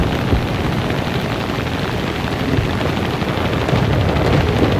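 Anti-aircraft gunfire in the War Thunder video game: dense, continuous rumbling blasts and rapid shots forming a loud, unbroken roar of battle with no talking.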